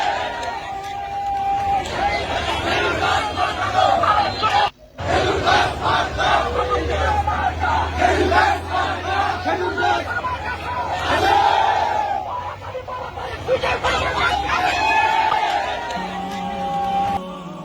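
A crowd of women marches in a political procession, a dense roar of massed voices and shouted cries filling the whole stretch, broken by one brief dropout, with a low rumble beneath.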